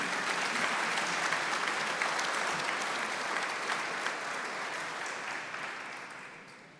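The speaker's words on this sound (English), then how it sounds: "Again, one more round of applause for our South Chapter Award winners." Sustained applause from a banquet audience honoring golf club award winners at a PGA awards dinner, dense steady clapping that fades slightly toward the end, no voices over it.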